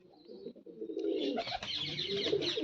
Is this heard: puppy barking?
no